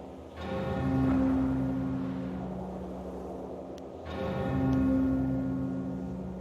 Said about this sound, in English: Sky better have a good reason for ringing that bell.